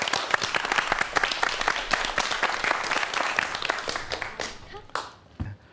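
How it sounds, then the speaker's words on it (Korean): A lecture audience at a virtual reality science talk bursts into sustained applause, dense overlapping clapping from a crowd in a hall that gradually thins and tapers off into a few scattered claps. "여러분 박수 부탁드리겠습니다"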